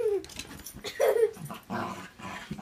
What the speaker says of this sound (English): cut out the barking